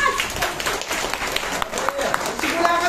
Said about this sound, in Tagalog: Salamat sa palakpak.